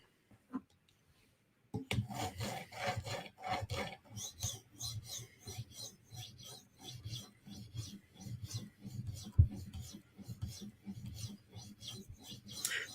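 A knife blade rasps back and forth across a coarse 150 grit sharpening stone in quick, steady strokes, close and fairly quiet, with a short pause and a few clicks before the rhythm starts.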